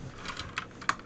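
A few clicky keystrokes on a SteelSeries Apex Pro TKL mechanical keyboard, sparse and fairly close, with no talking.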